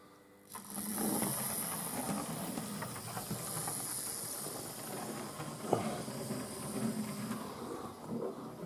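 A Bachmann LMS 1F class model locomotive running slowly on DC power gives off a steady mechanical hiss and rolling rattle, with a sharp click partway through.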